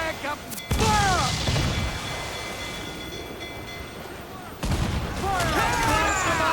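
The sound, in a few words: ship cannons firing in Assassin's Creed video game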